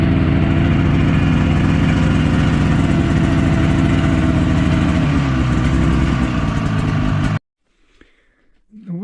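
A vehicle engine drones loudly and steadily while driving along a remote forest track, then cuts off abruptly, leaving near silence with faint sounds after.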